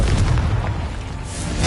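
A Confringo blasting-curse explosion from a Harry Potter game: a dull, rumbling boom with a blast of noise that builds again toward the end, loud and close, with no voices.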